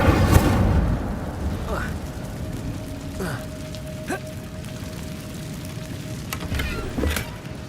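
Fire spell Incendio cast in Hogwarts Legacy, a burst of flame and crackle at the start followed by a fizzing, sizzling tail, with a few sharp magical zaps and whooshes scattered after.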